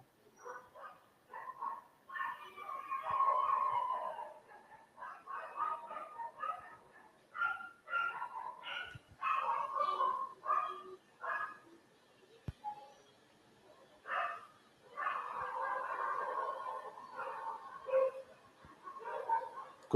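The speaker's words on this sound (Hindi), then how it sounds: "कुत्ते भौंक रहे हैं बेटा" Dogs barking outside, with repeated bursts of barks and yips, some whimper-like sounds and a few pauses between them, heard at moderate distance through a room.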